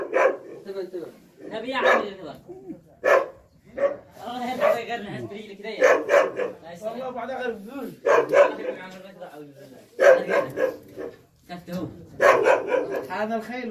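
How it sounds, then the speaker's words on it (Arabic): A dog barks in repeated bursts at a horse stable in Marib, Yemen, close and fairly loud, mixed in with people talking. "طيب قل الكلب اسكت شوي"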